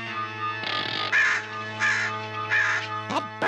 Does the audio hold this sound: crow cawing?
yes